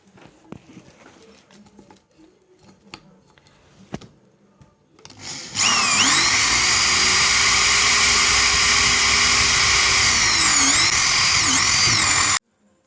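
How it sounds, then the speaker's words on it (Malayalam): A power drill bores a hole through the center of a glued wooden pen blank, starting abruptly after faint workshop taps and whining steadily and loudly for about seven seconds, its pitch dipping briefly near the end before cutting off. "ഒരു ഹോള് സെൻറ്ററിൽ ഇട്ട് കൊടുക്കട്ടെ."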